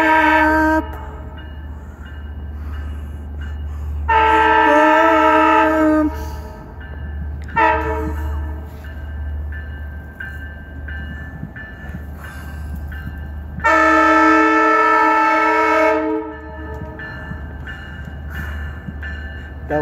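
A train's electronic bell and horn at a rail yard: two long, loud horn blasts stand out above a low, steady rumble, with short fainter horn taps between them.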